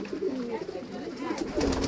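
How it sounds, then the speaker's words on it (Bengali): Pigeons cooing at a farm feeding spot, a few soft low throaty coos over about two seconds, close by with light background noise. "অনেক কবুতর।"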